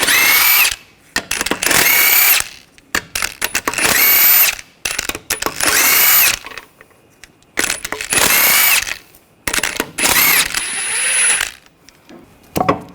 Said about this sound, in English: we're going to take the lug nuts off